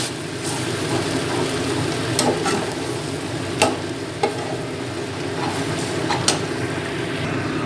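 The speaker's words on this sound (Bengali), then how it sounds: "মাছগুলো মশলা দিয়ে কষিয়ে" Fish pieces fry and simmer in spices in a pan in a Bengali home kitchen, with a continuous close sizzle and scattered sharp ticks and scrapes from a stirring utensil.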